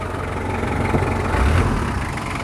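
Turbocharged engine of a Daihatsu Taft Rocky converted to Rugger turbo, idling with a steady, dense low rumble heard close and alone, with a slight swell midway.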